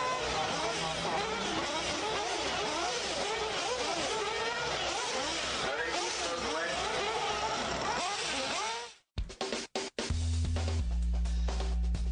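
Nitro RC cars race around a track, their high-pitched engines whining and buzzing in overlapping rising and falling sweeps at a steady distance, before the sound cuts out abruptly near the end.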